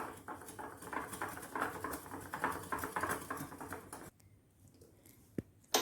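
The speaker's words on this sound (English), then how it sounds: "To this we add the baking powder and give a good whisk so that all the dry ingredients get combined well." A whisk beats dry ingredients with baking powder in a bowl, making quick, light, rhythmic patters close by for about four seconds, then near quiet with a single tap and a knock at the end.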